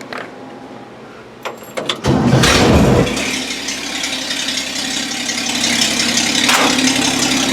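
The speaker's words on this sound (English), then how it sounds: "Got the old motor running pretty good." An old car engine, newly fitted with a fuel pump and reworked carburetor, cranks briefly with rattling clicks, then catches and settles into a loud, steady idle that runs on alone, rising slightly toward the end.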